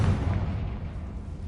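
A Confringo spell explosion in Hogwarts Legacy gives a short, dull boom that fades out in a low rumble over about a second.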